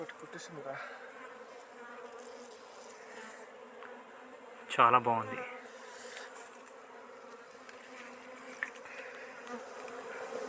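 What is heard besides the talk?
honeybees buzzing around wild hive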